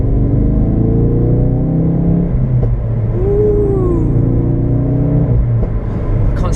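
Ford Focus RS engine with the sound deadening removed from the bonnet, heard from inside the cabin while driving: a steady, loud low rumble with faint induction whir and a brief tonal sweep midway, no talk.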